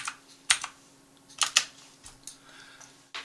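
Typing on a computer keyboard during 3D modelling work, with a few sharp, close key clicks in small bursts separated by quiet gaps, under a faint steady hum.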